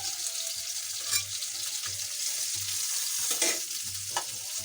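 Small pieces of fish fry in a pan, a soft continuous sizzle with intermittent stirring scrapes and a faint low hum, close and quiet, with no talking.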